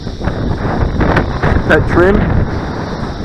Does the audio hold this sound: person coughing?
no